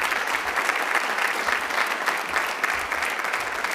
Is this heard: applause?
yes